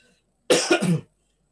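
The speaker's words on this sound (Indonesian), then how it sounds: "mohon maaf nih, saya agak batuk." One short, close cough in a quiet setting, a rough burst lasting about half a second.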